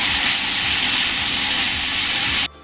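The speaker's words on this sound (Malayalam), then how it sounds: "ഇനി നമുക്കിതിലേക്ക് 3 സവാള ചെറുതായി അരിഞ്ഞത് ചേർത്ത് കൊടുക്കാം. സവാള ഒരു ഗോൾഡൻ കളറായി വരുന്നവരെ നമുക്കൊന്ന് വഴറ്റിയെടുക്കാം." Chopped onions sauté in a pan for a Kerala-style chicken curry, giving a loud, steady hiss that stops abruptly near the end.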